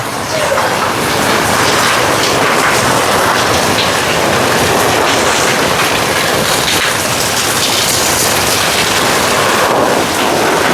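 Heavy rain pours down steadily in a storm with thunder and lightning over an open area of Jaffna, a loud, dense, unbroken roar throughout with a deep low rumble underneath.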